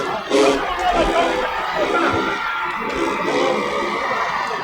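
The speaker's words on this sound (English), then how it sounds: "That's the crowd that you hear." Loud stadium crowd at a college football rivalry game roaring and cheering steadily as the marching bands come out of the stands, with whoops and shouts over a continuous wall of noise.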